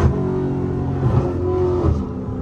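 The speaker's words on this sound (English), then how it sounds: "this car really loud, though." A Dodge Charger Hellcat with a 900 hp engine revs hard while driving on a highway, a loud, steady roar that swells and surges for a couple of seconds without talk.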